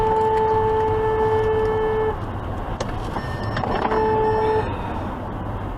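A car horn sounds on a European road, a long steady honk held for a couple of seconds, then a second shorter blast, over the hum of a moving car's cabin.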